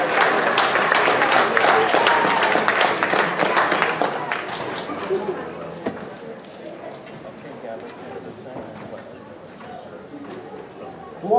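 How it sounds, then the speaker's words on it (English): An audience claps loudly at a university chemistry demo night, a dense burst of applause that tapers off after about five seconds into softer scattered claps and room murmur. "Big round of applause."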